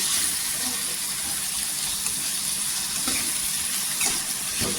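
Tomato sautéing in oil with onion for a dried-fish and drumstick curry, giving a steady moderate sizzle with a few soft stirring scrapes near the end.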